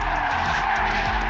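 A 2026 Chevrolet Corvette ZR1X of about 1,250 horsepower drifting, with a loud, continuous tire skid over a deep engine roar, heard up close with no speech.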